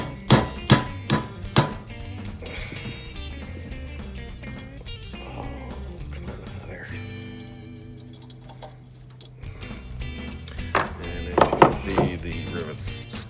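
A hammer strikes a nail punch set on a rivet in a fishing reel handle while installing a Gomexus power knob, giving four sharp close taps, then a lull with speech, then another quick cluster of strikes.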